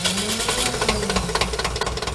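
Engine of a restored 1959 Porsche Master tractor, the largest Porsche tractor model, running steadily at close range with a continuous low rumble and a faint knocking rhythm throughout.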